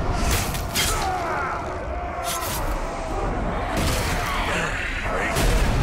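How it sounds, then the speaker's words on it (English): Heavy booming explosion in the Shadow of Mordor video game, a deep rumbling blast with crackling debris and bursts of noise over several seconds. "That was an explosion and a half."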